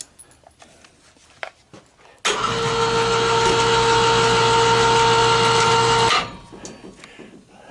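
A BeamNova 1500 lb electric hoist lifts a wheel, running as a steady, loud motor whine for about four seconds before stopping, with faint clicks and quiet surroundings on either side.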